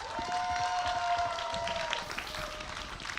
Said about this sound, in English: Applause for Envy